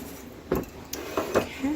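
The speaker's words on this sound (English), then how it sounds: "Get these all mixed together, and we're going to add it to our wet ingredients." Dry ingredients for banana nut bread mixed in a bowl, a few soft utensil clinks and scrapes in quick irregular bursts, close and fairly quiet.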